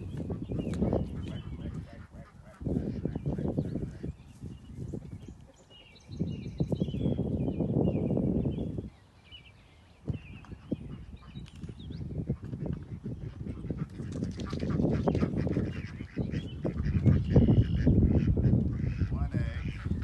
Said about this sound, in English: first I'm gonna let the duckies out